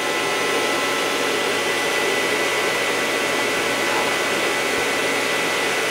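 Miyano TSV-35E CNC machine running its program, a loud, steady broadband whir and hiss of motors and coolant, continuous without pauses or voices.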